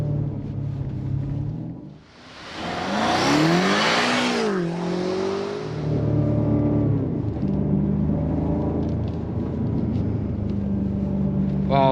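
A big BMW M car accelerates hard up the winding road on Mt Faber, Singapore, its engine swelling into a loud revving roar that rises and dips through gear changes, then settles into a steady drone.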